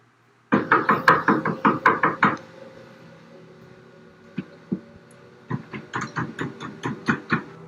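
Late-night knocking at a door: a quick run of about ten loud, hollow raps, a short pause with a few stray taps, then a second steady burst of knocks, close and with no talk over it.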